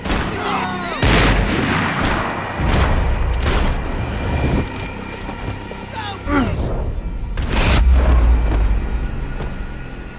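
Gunfire in the video game Max Payne 3: repeated loud, booming shots in bursts, with game voices talking over the battle and a heavy low rumble throughout.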